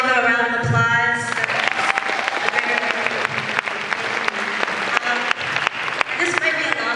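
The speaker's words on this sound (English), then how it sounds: "Can we all give him a round of applause?" Crowd applause at a speaking event, dense clapping with scattered loud individual claps and some voices and cheers mixed in, sustained for several seconds.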